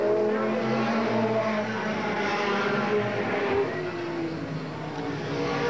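Superstock race cars roaring around Eugene Speedway in 1987, engines droning and revving loudly through traffic as cars sweep past, with an announcer's commentary over the engine noise.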